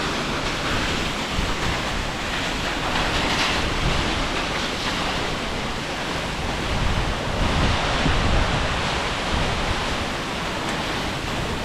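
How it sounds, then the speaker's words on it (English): Perrine Coulee waterfall in southern Idaho roars as a steady, dense broadband rush of falling water, continuous and fairly loud for the whole stretch, with some wind buffeting on the microphone and no talking. "One last view of this beautiful waterfall."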